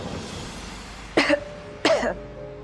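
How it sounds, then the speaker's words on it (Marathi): Two distinct, close coughs, spaced under a second apart, rising from a quiet indoor background with faint hum and no talk. "खोकला पण आहे."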